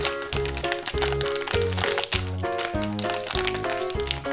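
Plastic crinkling and crackling as a plastic blind bag is torn open, continuous under steady background music.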